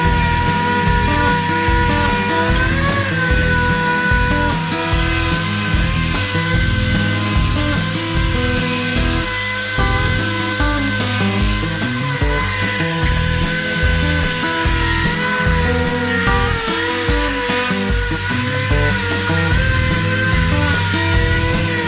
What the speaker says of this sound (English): I'm gonna go ahead now and start sanding all this stuff and get it done.